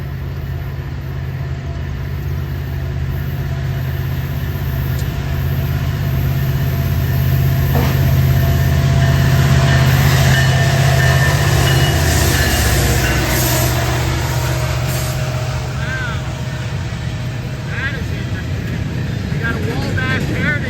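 A Norfolk Southern Wabash heritage locomotive pulling a train passes at Glendale, Ohio, at dusk, a loud, steady diesel rumble with a deep low drone and rolling noise, with speech heard faintly.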